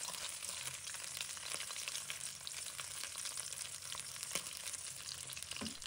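Golden pomfret sizzles in a frying pan, a soft, steady crackle of hot oil that runs continuously and fairly quietly throughout.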